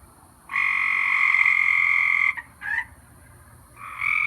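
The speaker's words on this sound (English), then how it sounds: "the tree frogs are hollering for rain" A loud, steady tree frog croak drones for nearly two seconds, breaks into a short chirp, then resumes, close and prominent against a quiet background.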